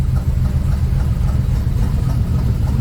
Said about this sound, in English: I'm not on the gas, the car's idling by itself.